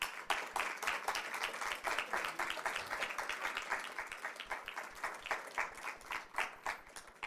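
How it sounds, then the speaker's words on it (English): Audience applause at a school board meeting fills the room, sustained dense clapping from many people that holds steady for over seven seconds. "Let's give a round of applause to Dr."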